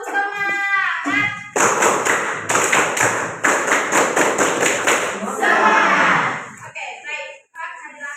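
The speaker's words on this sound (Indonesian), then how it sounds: "Tepuk semangat." A classroom of children claps a rhythmic spirit cheer in quick, loud, patterned bursts of hand claps mixed with chanting voices. A teacher's voice is heard before and after.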